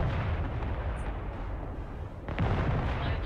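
Rocket and artillery fire in the video game Broken Arrow, a dense, continuous rumbling barrage of booms with a brief lull and a fresh burst near the end, loud and without talk.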